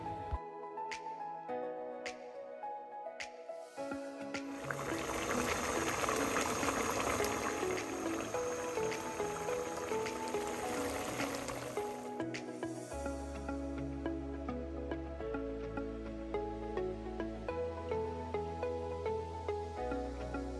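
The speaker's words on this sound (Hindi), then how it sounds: "हाफ कप दही डालकर अब हम इसकी अच्छे से भुनाई कर लेंगे।" Chicken karahi with half a cup of yogurt, cumin powder, crushed red chilli and black pepper bubbles and sizzles in a pan, a steady hiss for several seconds set against soft background music.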